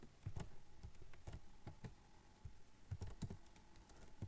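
Computer keyboard keys clatter in quick, uneven bursts of close taps while code is typed, with brief pauses between runs and no voices.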